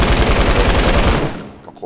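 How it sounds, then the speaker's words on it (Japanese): Rapid automatic gunfire from the Fortnite video game, a loud sustained burst of repeated shots that cuts off and fades after about a second and a half. "銃声ってすごい届くんですよ、遠くまで音がね。"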